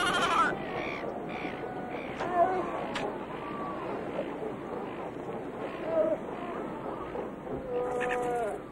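Silver gulls squabble over a newborn seal's afterbirth on an Australian shore, with harsh overlapping squawks and cries throughout against steady background noise.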